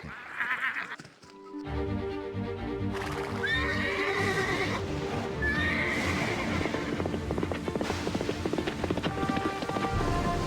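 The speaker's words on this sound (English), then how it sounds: "I think this is supposed to be Embar, a white horse that can travel over the sea." A white horse that can travel over the sea neighs and whinnies in the Atlantis 2 adventure game, loud and close, with hoofbeat-like clip-clops and a rain-like wash of game sound running steadily beneath it.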